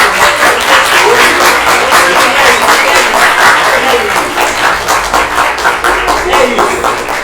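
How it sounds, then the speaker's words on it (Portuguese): A room full of people at an academic session gives loud, sustained applause with rapid overlapping claps and a few faint chuckles mixed in. "salva de palmas."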